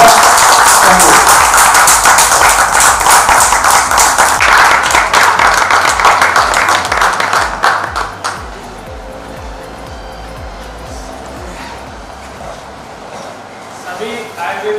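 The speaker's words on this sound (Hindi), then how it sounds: "तो मैं बहुत तालियों के साथ आपका स्वागत देना चाहूँगा मिस्टर त्रिपाठी जी का।" Seminar audience at a Jaipur hotel applauds to welcome a speaker, with loud sustained clapping for about eight seconds that then fades to quiet room noise.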